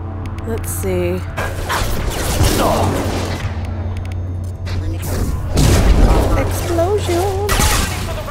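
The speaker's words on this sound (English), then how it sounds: "Explosion!" Battle explosions and gunfire from the Mass Effect 2 video game rumble loudly and continuously, with booming bursts and game voices over the combat noise.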